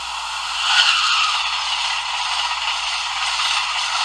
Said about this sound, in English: 4 is the whoosh sound.